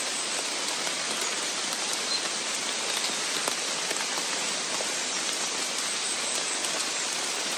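Steady rain falls outdoors in a forest, a dense, even patter of drops on leaves and ground that continues unbroken and fairly close throughout, with no voices.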